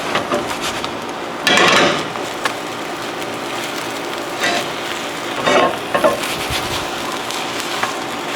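Seasoned eggs cook in a pan for a japchae noodle dish, with a steady background sizzle and a few louder bursts of scraping and stirring, close by, with no talk.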